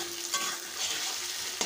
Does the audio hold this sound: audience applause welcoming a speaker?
no